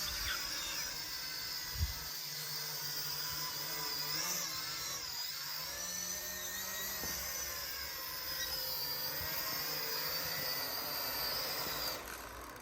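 A small drone flies close by, its rotors giving a continuous high, whining buzz that rises and falls in pitch as it manoeuvres, with no talk.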